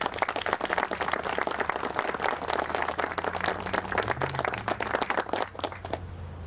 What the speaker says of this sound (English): I'd like to have a round of applause thanking Mr.